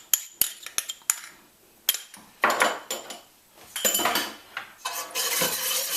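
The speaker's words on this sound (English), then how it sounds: "Let's get a spoon to just make sure I scrape everything down in there." A metal spoon scrapes and clinks against a pot while pushing down a yellow prepared mustard mixture, giving a run of sharp close knocks and scraping strokes, then a longer rougher scrape near the end.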